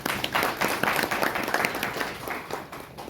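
An audience claps to welcome a lecturer giving a bedbug-prevention talk in Busan, with dense, steady applause filling a hall for a few seconds and no speech.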